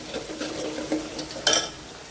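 Onion and crushed garlic sauté in a pan while they are stirred, giving a soft sizzle with light scraping and a brief clink near the end. No one speaks.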